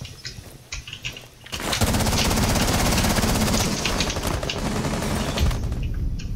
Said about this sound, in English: Just wallbang the shit out of them, dude.